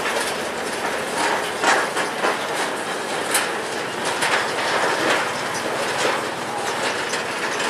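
Empty sugar cane rail wagons at the tail of a train rolling over a bridge and level crossing, a steady clattering, rattling rumble with rhythmic clicks, close and continuous without talk.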